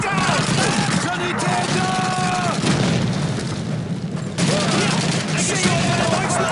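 Gunfire in the World War II shooter Call of Duty 2, Battle for Caen, with a dense, steady wash of rifle and machine-gun fire and booming impacts under shouted voices and music.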